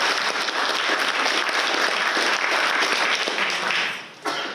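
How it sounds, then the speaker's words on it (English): An audience applauds sponsors at a Chamber on Tap business evening, steady dense clapping filling the room for about four seconds before briefly dipping and resuming at the end. "So just give a round of applause to all of our sponsors for this talk."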